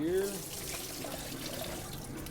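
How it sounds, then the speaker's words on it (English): Soaked diced potatoes are drained through a colander, giving a steady rush of running water and splashing at close range, with a faint voice underneath. "So if you want to go ahead and drain them in that colander."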